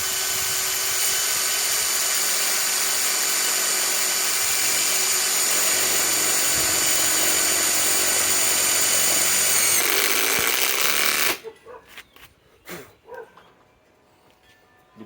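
A Ryobi PSBIW25 compact impact wrench hammers a screw into wood that is not pre-drilled, a loud continuous rattling whine lasting about eleven seconds before cutting off, followed by faint handling noises.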